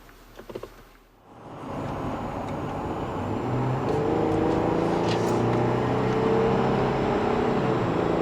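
A Jeep JL Wrangler pulls away in first gear: after a brief quiet moment, a steady engine and road drone swells up and holds loud and even to the end.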